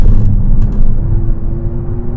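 A low, steady electric motor hum with a faint tonal whine, close and continuous, from an Abarth 500e electric car driving at speed.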